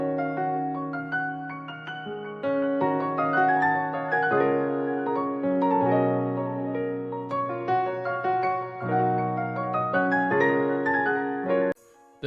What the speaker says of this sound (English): And now the whole finished piano melody sounds like this.